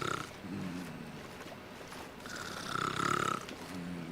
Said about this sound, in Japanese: おっさんのいびきがすんごいこだますんやけど。